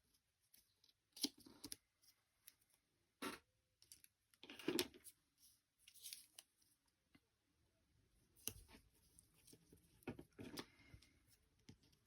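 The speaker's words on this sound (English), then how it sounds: "Let's cut this bit off." Card being cut with scissors while making a football-themed pop-up box card: sparse, quiet snips and crisp paper rustles spaced irregularly, with handling clicks between cuts and no talking.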